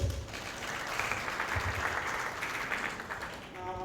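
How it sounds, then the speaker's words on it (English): A seated audience gives a steady round of applause at a tax clinic session, a dense, even patter of many hands clapping continuously for about four seconds at moderate volume. "I think another round of applause."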